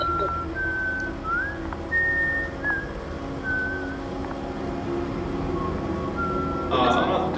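Someone whistles short, thin tonal notes in a scattered, halting pattern indoors in an old building, fairly faint over a low steady background hum.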